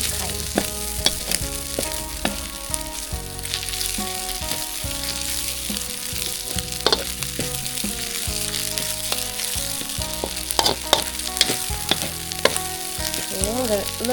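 Wild spiders fry in hot oil with pepper, giving a constant crackling sizzle close up and scattered sharp pops and stirring clicks, with no voices.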